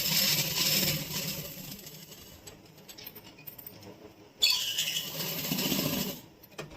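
Domestic sewing machine stitching the pocket of a palazzo, a close mechanical whir with small clicks that runs, pauses, and starts again with a sharp jolt partway through.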